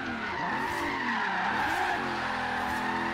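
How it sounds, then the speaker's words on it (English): A Regalia slides sideways under the e-brake in Forza Horizon 3, its tires squealing in a long, wavering skid over a steady engine drone, loud and close with no one talking. "It slides a little with the e-brake."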